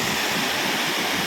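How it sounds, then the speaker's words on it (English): Banjhakri waterfall at night pours in a steady, loud roar of rushing water, broad and unbroken, with no voices over it. "What a fantastic waterfall at night."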